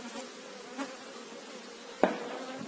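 Honey bees buzzing around their hive in a light breeze during a chestnut honey flow: a faint, steady hum throughout, with a single sharp knock about two-thirds of the way in.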